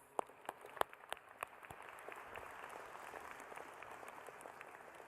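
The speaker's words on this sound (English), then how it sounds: "Let's applaud Liz." An audience applauds keynote speaker Liz Thompson at an Illinois Tech event, starting with a few sharp, separate claps that quickly fill into a soft, continuous round of applause.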